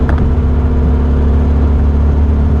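Steady engine drone and road rumble from a 1992 Rover Mini Cooper 1.3 cruising at speed, a constant low hum filling the whole stretch.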